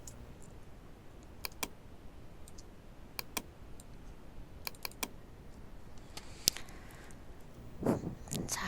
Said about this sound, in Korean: 컨트롤 누르고 방향키 이용해서 바로 이렇게 이동도